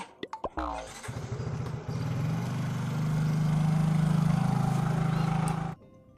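A motorcycle engine is cranked with a few sputtering tries, then catches and runs at a loud, close idle that builds slightly before cutting off abruptly, on a motorbike said to stall often and need servicing.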